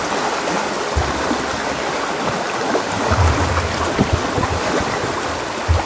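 Sea waves wash steadily at Ulo-Ulo Beach Resort in Lobo, Batangas, a loud, continuous surf roar with occasional heavier surges and no voices.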